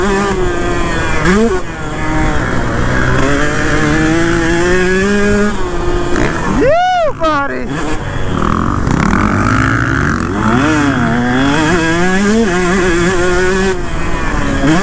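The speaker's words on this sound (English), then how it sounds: "We got Jamal on a Honda CRF 450 and Andres on a CRF 250." Honda CRF 450 and CRF 250 dirt bikes ride close by, their engines revving up and down in rising and falling whines, with one bike roaring sharply past near the middle.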